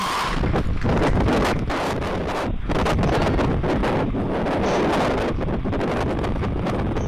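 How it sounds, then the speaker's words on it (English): Strong wind buffets the microphone at a Falcon 9 Starlink 4-11 rocket launch, a loud, continuous roaring rush with gusting swells throughout. "Very windy."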